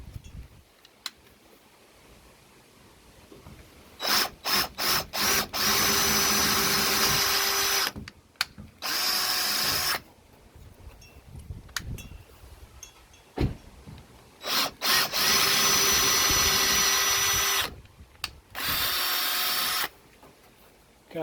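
A power drill boring four holes for VW jail bar end pieces: loud, sustained whining bursts of several seconds, broken by short stop-start trigger blips and pauses, with some reversing runs.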